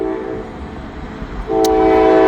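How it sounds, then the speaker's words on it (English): A northbound Norfolk Southern train rumbles by steadily before its horn sounds partway through, a loud, sustained blast that continues to the end. "We got a Norfolk Southern train northbound here,"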